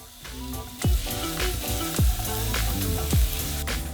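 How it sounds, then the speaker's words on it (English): Three cloves of minced garlic sizzle steadily in a hot pan for fried rice, a continuous crackling fry broken by a few sharp clinks of a utensil against the pan, close and fairly loud with no talk. "you're gonna start by putting 3 cloves of minced garlic in the pan just until they're fragrant"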